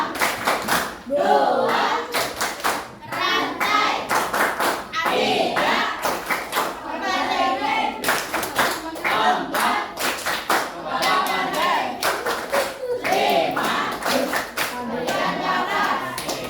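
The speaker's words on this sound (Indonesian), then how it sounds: "Kasih tepuk tangan untuk kelompok kami kita kelompok 5." A group in a classroom claps in rapid, sustained applause, loud and close, with several bursts over a steady hum of hands and faint voices.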